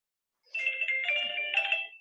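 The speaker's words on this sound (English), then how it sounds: "you hear a little ding dong, I'm sorry." A two-tone electronic ding-dong chime, like a doorbell or alert, rings out clearly from silence, its notes ringing and overlapping before fading.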